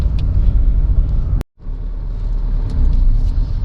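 A Tata Safari SUV on the move gives off a steady low rumble of engine and road noise from inside the cabin, with one brief near-silent dropout partway through.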